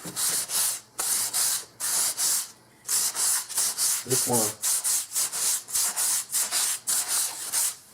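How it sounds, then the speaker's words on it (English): Rhythmic back-and-forth strokes of sandpaper lightly rubbing a wooden Mossberg 500 shotgun stock, close and steady with brief pauses, and a short spoken phrase midway. "What I'm going to do is just lightly sand this."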